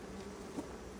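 Honeybees buzz in a steady, close drone throughout an open Langstroth hive inspection, a dense continuous hum with one brief louder swell near the middle.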